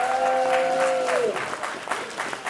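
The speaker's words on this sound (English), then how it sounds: "Everybody, please give one more round of applause to all of our candidates." Audience applause at a community forum for Senate District 31 vacancy candidates, a sustained wash of clapping from a room of people, briefly overlapping a fading held tone at the start before continuing steadily.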